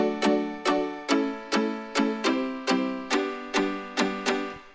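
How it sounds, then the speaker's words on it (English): Tropical pop house synth chords layered from guitar, open pluck and piano sounds play as roughly ten short, bright stabs in a steady, evenly spaced rhythm, each striking sharply and decaying quickly, loud and alone with no voices. "The next thing I did was to create my synth chords from the chords that I made earlier."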